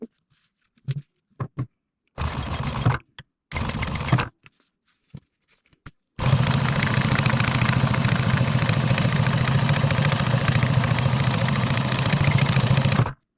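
A sewing machine top stitching a folded edge on a DIY tactical hot can pouch: a few short stitching bursts with pauses, then one long, loud, steady run of stitching, heard close up with no talking.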